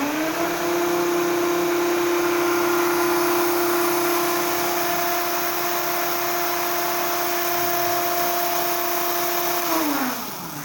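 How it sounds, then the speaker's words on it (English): DC motor fed 24 volts through a boost converter, driving a chain and dynamos: a loud, steady high whine and whir held for about ten seconds, then winding down quickly as it stops. "this is switching on the motor via the boost converter"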